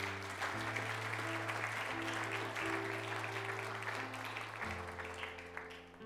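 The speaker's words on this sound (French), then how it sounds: "Est-ce que tu peux acclamer pour le roi des rois?" A church congregation applauding at a Christian service, sustained clapping layered over held organ or keyboard chords that swell and shift, fairly faint and continuous throughout.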